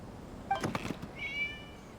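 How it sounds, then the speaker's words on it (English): A cat meows in Genshin Impact, one short near call followed by a higher, drawn-out mew, fairly faint against a quiet game background with no talk. "It was just a cat."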